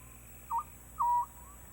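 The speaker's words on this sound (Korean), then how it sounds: "소쩍 소쩍 소쩍새 수컷의 울음소리다." Two short, soft whistled hoots from a male scops owl, the second slightly longer, sounding distant against a quiet night background.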